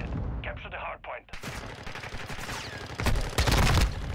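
Gunfire in Modern Warfare 2 with rapid automatic bursts and sharp cracks, building louder toward the end under faint game radio chatter.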